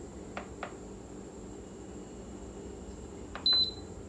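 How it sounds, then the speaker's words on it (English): An Instant Pot gives a short electronic beep as its saute button is pressed, preceded by a couple of faint clicks, all against a quiet room hum. "I'm gonna hit my saute button"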